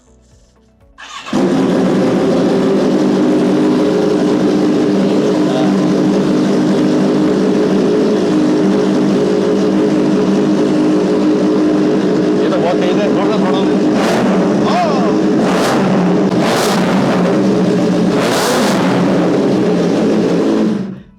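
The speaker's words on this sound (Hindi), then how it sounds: "चलो एक बार साउंड सुनते हैं बाइक का कैसा है" A Kawasaki ZX-10R motorcycle engine starts and idles with a steady throbbing rumble, then revs up sharply several times near the end, loud and close.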